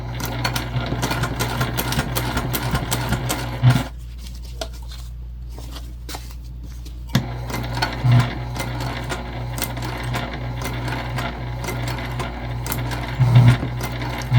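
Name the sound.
sewing machine top stitching a sling bag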